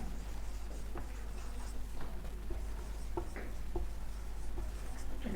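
Chalk or marker writing on a board during a calculus lesson, faint scratchy strokes and taps in short irregular bursts over a steady low hum.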